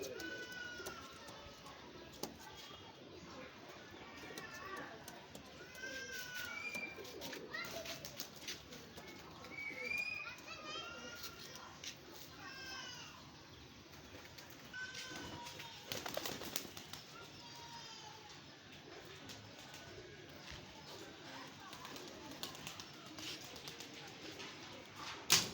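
Pigeons coo softly in a loft, a steady run of low murmuring calls with occasional wing flaps and faint background bird sounds over about twenty-five quiet seconds.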